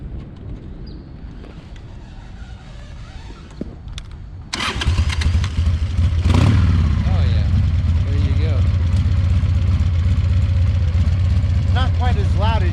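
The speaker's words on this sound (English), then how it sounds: "Let's hear what it sounds like. Fire it up." A 2003 Harley-Davidson Sportster 100th Anniversary motorcycle with baffled mufflers cranks over and fires up, then settles into a loud, rumbling idle. Voices talk over the engine.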